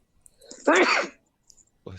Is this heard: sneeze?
yes